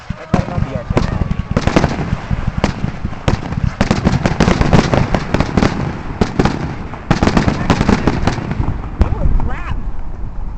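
Canada Day fireworks going off in rapid succession, dense loud bangs and crackling bursts filling the whole stretch with only brief lulls, with people talking and exclaiming underneath.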